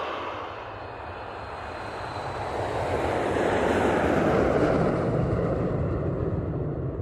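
A United airliner taking off from runway 10 left, a loud, rising roar of jet engines that swells toward the middle and holds steady, heard alone without speech.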